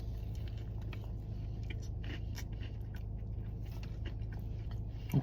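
Close, wet chewing and biting of a soft vegan cinnamon roll, steady mouth sounds over a constant low room hum, with a small crunch near the end.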